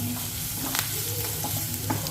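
Green chilli and curry leaves stir-fry in a pan with a steady close sizzle and several sharp scrapes and clinks of the spatula.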